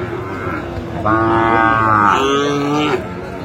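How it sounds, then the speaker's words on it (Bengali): Sahiwal breed bull calf at a cattle market in Faridpur, lowing twice in long, loud, close moos with a brief pause between, over a murmur of market background noise. "আমরা দেখছিলাম সামনে একটা চমৎকার শাহিওয়ালের ষাঁড় বাচ্চা, কোয়ালিটি সম্পন্ন।"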